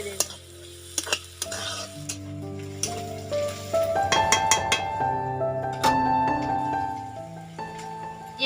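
Chopped chili sizzling and frying with onions in a pan, a steady close hiss punctuated by stirring scrapes and occasional clinks of a utensil against the pot.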